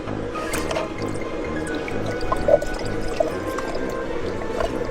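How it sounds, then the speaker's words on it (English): Water is poured into a PJ Masks toy head, a steady wet trickling and dripping that runs for several seconds with small splashy accents, no voices. "What happens if we put some water in it?"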